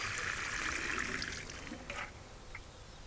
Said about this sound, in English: letting a little puddle form and then letting it soak down into the soil and watering again.